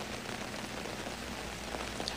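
Night rain falls steadily in Sariaya, a faint, even hiss of drops striking surfaces with no break and no voices.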